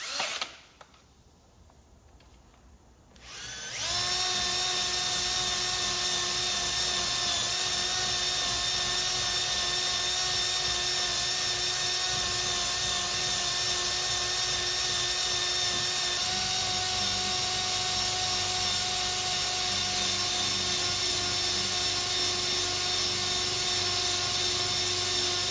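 Car polisher buffing paint at 4,000 RPM, starting up after a few seconds of quiet rustling, then a loud, steady high-pitched whine that holds continuously with a slight shift in tone partway through.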